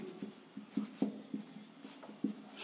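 Chalk or marker strokes on a classroom board, a series of short scratchy taps and squeaks in an irregular rhythm, fairly close and quiet, with no speech.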